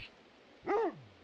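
A single short dog bark rings out in the video game Trash Day, one quick yelp that fades into a low tail, with quiet room tone around it.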